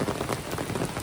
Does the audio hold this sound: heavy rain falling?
yes